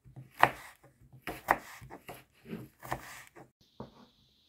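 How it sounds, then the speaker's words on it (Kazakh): A knife chops an apple into small cubes on a board, giving a series of close, crisp cutting knocks at an uneven rhythm, separated by short quiet gaps. "Алмамызды осылай турап аламыз, төрт бұрыштап майдалап."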